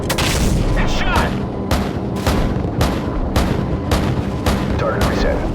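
An AC-130 gunship's heavy cannon fires in Call of Duty 4: Modern Warfare, each loud booming shot landing at roughly half-second intervals over a steady rumble of engine drone.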